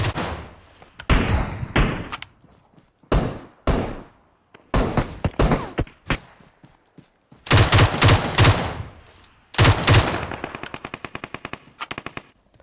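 Automatic gunfire from a Mutant rifle in PUBG Mobile: loud, close bursts of rapid shots in several clusters, separated by short pauses and thuds, with no talking.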